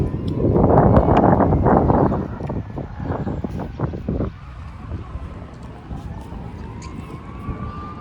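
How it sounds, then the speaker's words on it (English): Outdoors, wind buffets the microphone in heavy low rumbling gusts for the first few seconds, then eases to a lighter, steady rush, with faint distant sounds in the background. "sorry if it's windy."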